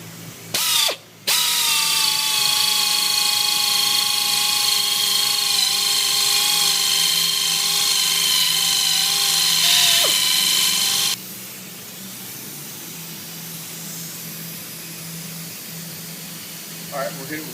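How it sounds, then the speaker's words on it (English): A rotary polisher buffs a freshly sprayed Raptor-style truck bed liner coating on a car trailer, giving a loud, steady whine with a brief dip near the start, then dropping to a quieter hum after about eleven seconds. "but yep, I'm buffing on a trailer."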